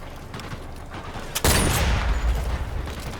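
Rifle gunfire in the Sniper Elite VR video game: one loud, sharp shot bursts in partway through and leaves a long, booming, reverberant tail that fades slowly.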